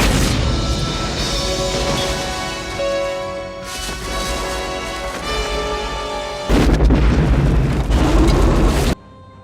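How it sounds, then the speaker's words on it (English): A grenade blast in an action movie scene: heavy, loud booming and crashing rumble that swells and surges, with a final burst before cutting off, no talk. "A grenade down his pants."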